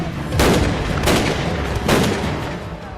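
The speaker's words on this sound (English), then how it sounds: "Gunfire erupts again" Three heavy gunshots boom at roughly even intervals, each a sharp blast with a lingering rumbling tail, fairly close and loud.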